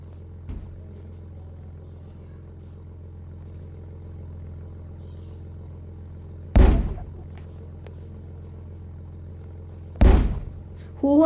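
Two sudden booming blasts of a light pickup truck exploding in a soft-body physics crash-test video game, each a sharp loud burst fading quickly, over a low steady engine hum with quiet gaps between.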